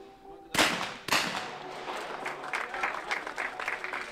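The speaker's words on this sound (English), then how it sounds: "that's some very solid shooting" Two sharp shotgun blasts about half a second apart ring out at an outdoor junior men's skeet final, each followed by a long echoing tail, with a steady crowd and ambient murmur underneath.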